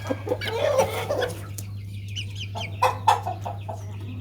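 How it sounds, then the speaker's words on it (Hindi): A jet black German Shamo hen, an aseel game fowl, clucking close by in short throaty bursts, with a steady low hum running underneath throughout. "जेट ब्लैक जर्मन शामो मादी है, अंडे देती जा रही है।"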